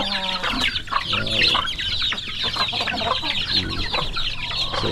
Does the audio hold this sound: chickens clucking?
yes